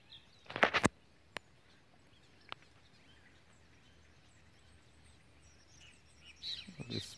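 Small birds chirp faintly in the distance, with a few scattered tweets over a quiet outdoor background and a brief clatter near the start.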